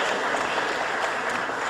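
Dense, steady applause from an audience at a public cultural event honouring a deputy, a continuous wash of many clapping hands with no pauses.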